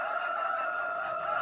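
In Farming Simulator 22, a game rooster lets out a loud, continuous crow that holds at an even level from start to finish, close and unaccompanied.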